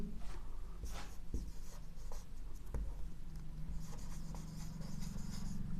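A teacher writes on a board during an English grammar lesson, giving a steady run of scratchy strokes with a couple of sharp taps. The sound is close and even, and nobody speaks.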